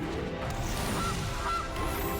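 A goose honks twice as a sound effect when a Goose card is played in the MTG Arena digital card game, short nasal calls over a busy background of game sounds.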